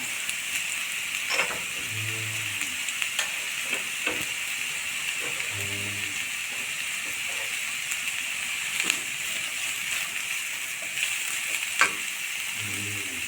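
Carrots, beans and green peas sautéing in a pan for veg cutlets, a steady close sizzle with occasional stirring scrapes and clinks of a spoon against the pan.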